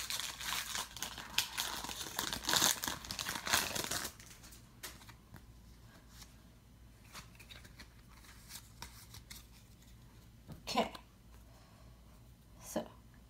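Foil wrappers of Pokémon Sun and Moon Guardians Rising card packs from Dollar Tree crinkle and tear loudly up close for a few seconds, then quieter rustles and occasional sharp crackles follow.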